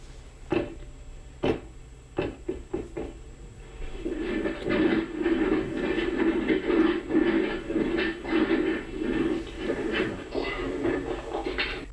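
Floor impact noise made in an upstairs apartment, recorded on that floor: a few sharp thuds, then a run of dull, rhythmic thumping and rumbling at moderate loudness.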